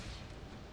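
Gunfire in the shooter video game Bulletstorm, a dense, loud burst of booming shots packed into a fraction of a second, with no talk over it.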